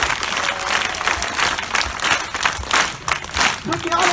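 At an outdoor festival in a palace park, a crowd breaks into loud, dense applause that fluctuates in intensity, with some voices mixed in.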